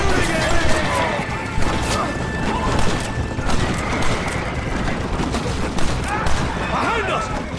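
Gunfire rages in a Red Dead Redemption shootout with rebels in Nuevo Paraiso: dense, continuous overlapping shots with crashing impacts form a loud, unbroken barrage throughout.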